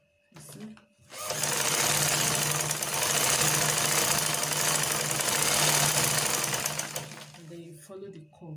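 A sewing machine runs steadily for several seconds while stitching a shift dress along a curve, a close, loud, even mechanical whir that starts abruptly and stops, with brief speech around it.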